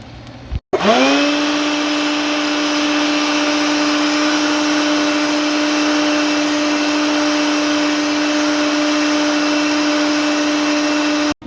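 Drum coffee roaster loaded with Honduran beans runs steadily after a short click, a loud constant motor and fan drone with a sustained whine, close and unbroken as the beans cool in place.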